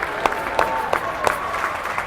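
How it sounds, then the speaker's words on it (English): Parents clap in scattered, moderately loud bursts for a youth hockey team of tournament finalists carrying a banner around the rink, with a few sharper claps standing out over a steady crowd hum. "We're going to carry our little finalist banner around and get clapped"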